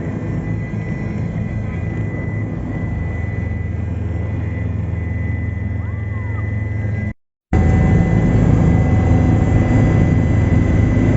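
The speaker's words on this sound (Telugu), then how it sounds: "రిటర్న్ హెలికాప్టర్లో కిందకు వచ్చేసాం." Steady, loud engine and rotor drone from inside a helicopter descending on the return leg of a Kedarnath pilgrimage flight, continuous throughout with a brief dropout near the end.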